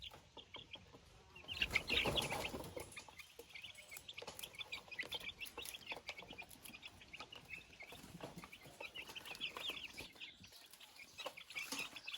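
Young chicks cheep faintly in a small cage, a thin scattered chorus of high peeps with a brief louder rustle near the start, fairly quiet overall.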